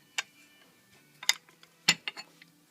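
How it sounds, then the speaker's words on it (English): Bolt assembly of a Ruger 10/22 rifle being lifted out during disassembly, a few sharp metallic clicks and light rattles close up, sparse and quiet with no talk. "Whole bolt assembly will come out."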